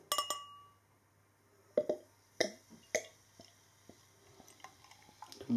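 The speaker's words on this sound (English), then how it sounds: "Let's get this beer out into a glass and see what we get." Glass clinks and small liquid drips as an Icelandic Borg Snorri Nr 10 light-coloured ale is handled and poured into a glass, a few sharp separate clinks over quiet background.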